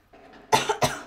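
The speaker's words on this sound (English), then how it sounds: "Sorry, I keep coughing." A person gives a quick pair of sharp, close coughs after a brief soft breath.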